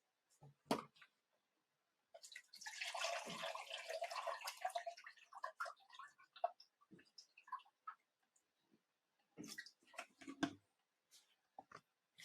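Distilled water poured into the reservoir of an AeroGarden indoor hydroponic garden, a steady close splashing pour lasting a few seconds, followed by scattered drips, handling clicks and faint taps.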